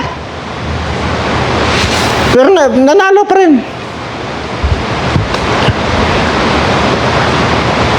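Sea waves washing onto the shore make a steady, wind-buffeted rush throughout, briefly overlaid by someone speaking excitedly in the middle.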